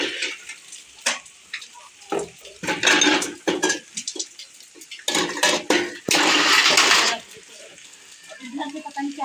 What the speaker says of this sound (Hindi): अम्मी जो है ना बर्तन यहाँ पे इकट्ठा कर रही हैं